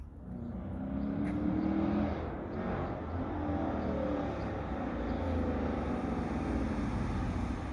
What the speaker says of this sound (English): Little test drive after the BORLA exhaust system.